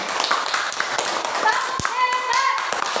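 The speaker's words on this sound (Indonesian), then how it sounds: "Tepuk tangan untuk kita semua." Children in an Indonesian classroom clap their hands together at a teacher's prompt, a quick burst of scattered claps with a few whistles and voices mixed in.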